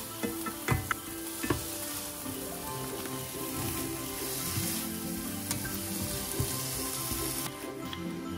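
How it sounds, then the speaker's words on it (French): A browned mixture frying in a pan with a little sugar added to caramelize it, giving a continuous crackling sizzle with a few clicks and taps from a utensil early on. "Une fois que le tout a bien grillé, on ajoute un petit peu de sucre pour que ça fasse vraiment caraméliser le mélange."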